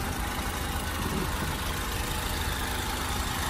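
A 2006 car with a 2.0 automatic engine idles smoothly and steadily, a constant close hum with no variation through the whole stretch and no talking.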